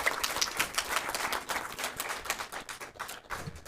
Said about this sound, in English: claps for our board members